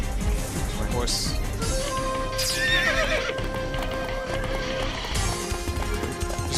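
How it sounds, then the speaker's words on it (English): In the video game Samurai Warriors 2, a horse whinnies loudly amid galloping hoofbeats and battle noise, with someone talking over the game sounds. "My horse."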